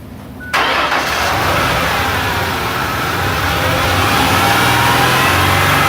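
A car engine catches and is held at a steady high 3,000 RPM, a loud continuous revving drone, close and alone without talk, from a vehicle with a clogged exhaust catalytic converter.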